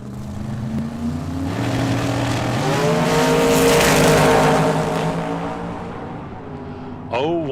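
Chevrolet S10 drag racing truck at a drag strip roars past, its engine note rising to a loud peak then fading, with a sharp new burst of sound at the end; commentators talk over it.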